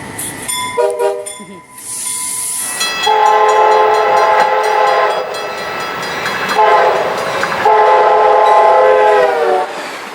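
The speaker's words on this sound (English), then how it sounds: "most units came equipped with Nathan K5LA air horns. Here's a few samples." Nathan K5LA five-chime air horn on an Amtrak HHP-8 electric locomotive blowing several loud, close sustained chord blasts of a few seconds each, separated by brief gaps.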